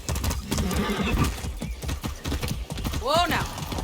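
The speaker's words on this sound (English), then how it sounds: "That's a good horse." In Far Cry 6, rapid hoofbeats clip-clop steadily as a horse is ridden, ending in a loud, wavering whinny near the end; a voice talks over the galloping.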